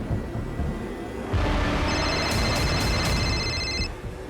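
A mobile phone rings with a bright electronic tone that pulses several times over a steady background hiss, sounding a short distance away.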